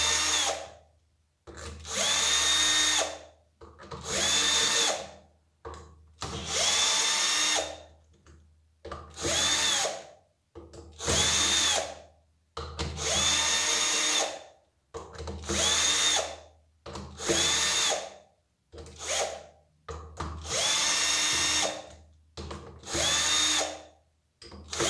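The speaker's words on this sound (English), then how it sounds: "use the cordless screwdriver to make it faster" A cordless screwdriver backs screws out of a pump in a series of loud, close whirring bursts of about one to two seconds each, separated by short pauses.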